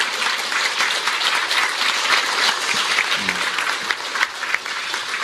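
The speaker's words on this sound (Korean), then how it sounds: "큰 박수 부탁드리겠습니다." Dense, sustained applause from a large crowd at a presidential candidate's press event, many hands clapping loudly and evenly throughout without a break.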